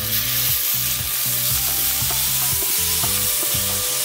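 Prawns frying in hot oil in a wok give a loud, steady sizzle, broken by repeated clanks and scrapes of a utensil stirring throughout, with no voices.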